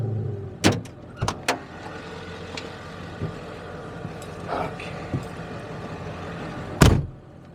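A car door opens and slams shut with a few sharp thuds and latch clicks as someone climbs out, followed by quieter rustles and another firm door slam near the end.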